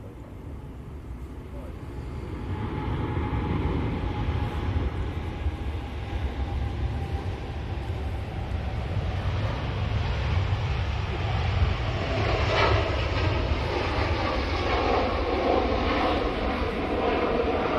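An Etihad airliner passes at Manchester Airport, a loud, sustained jet roar that swells and holds steadily close throughout, with no talking.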